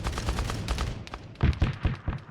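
Heavy gunfire in the military game Arma 3, rapid bursts of overlapping rifle and machine-gun shots cracking close and loud, with a brief lull before a second cluster of sharper, punchier reports.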